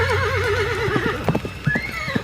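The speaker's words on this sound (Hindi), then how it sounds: "शिवा ने अपना घोड़ा भगा लिया सती की तरफ।" An audiobook sound effect of a horse gives a loud, wavering whinny, followed by uneven clip-clop hoofbeats of a gallop and a second rising neigh near the end. No voices are heard.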